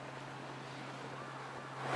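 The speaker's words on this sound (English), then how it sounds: "It's a high tide. The waves are kind of small." Small ocean waves at high tide on Laguna beach give a steady broadband wash with a slight swell at the end, heard alone without talk.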